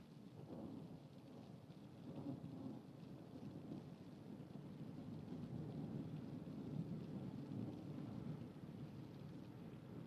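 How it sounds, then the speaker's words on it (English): Thunderstorm with steady rain in a 1982 film, a continuous wash of rainfall with low rolling thunder rumbling underneath, fairly quiet and distant, with no voices. "we start with a thunderstorm and a girl who's not loving the storm"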